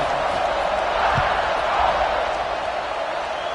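A stadium crowd in the College Football 26 video game keeps up a steady roar just after a PAT, with a soft thump partway through.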